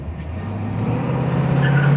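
A 1971 Ford Mustang Fastback with a 302 V8 revs up close and loud, its engine note climbing steadily in pitch and volume over two seconds with no talking.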